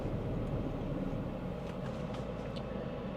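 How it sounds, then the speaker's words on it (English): A steady low engine rumble from an idling Domino's pizza delivery car, a close, even drone with no voices over it. "It's idling wonderful. It just seems like it's kind of bogging."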